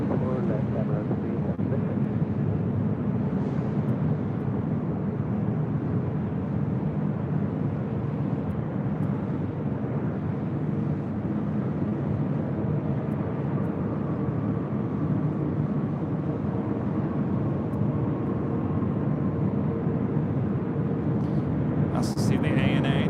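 Broad, continuous jet roar from airliners taxiing and departing at LAX, including an ANA Dreamliner bound for Tokyo Haneda heading to runway 24 left, heard outdoors with wind buffeting the microphone.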